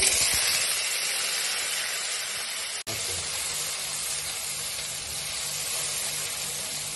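Garlic frying in oil for white korma, a steady loud hiss and sizzle that briefly drops out for an instant, then resumes at the same level.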